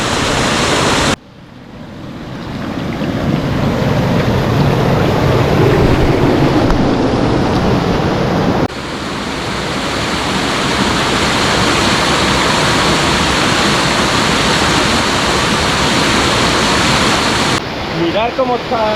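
Water pours over the cascade at the abandoned Montejaque dam in Spain, a loud, dense, continuous roar that swells and shifts in level as the position changes, with a brief speaking voice near the end.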